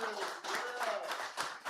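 Short burst of audience applause from a recovery-show studio crowd, steady clapping filling the whole moment with a slight dip midway, fairly close and even in loudness.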